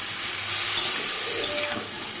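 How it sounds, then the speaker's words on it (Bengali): Black cumin seeds fry in hot oil in a pan, giving a steady close sizzle, while a utensil stirs them with two or three light scraping knocks. "এবার এটা ভাজা ভাজা হোক"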